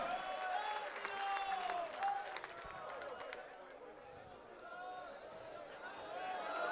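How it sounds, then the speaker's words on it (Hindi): A large crowd applauding at a Vipra Mahakumbh gathering in Sagwara, Rajasthan, a sustained roar of clapping that swells and eases, with voices calling over it. "ऐसे मालवीय साहब के लिए जोरदार ताली बजाएं"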